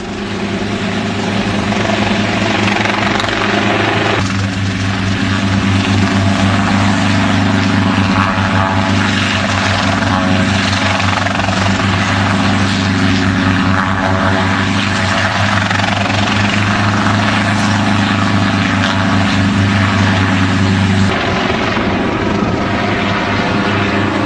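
R-44 helicopter with a tail rotor struck by a foreign object, a loud, steady rotor and engine drone with pulsing thump and whine, shifting in tone twice but never letting up.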